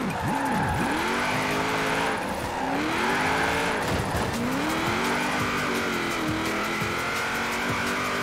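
Cars drifting in tandem in Forza Horizon 4, engines revving hard with rising and falling pitch sweeps as they bounce off the limiter, continuous loud tire squeal throughout, no talk.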